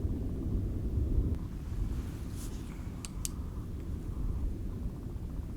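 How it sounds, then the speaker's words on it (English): Deep, continuous thunder rumbles steadily in the distance during a Utah storm, a low, rolling roar mixed with a little wind noise. "I've never heard a constant thunder like that before."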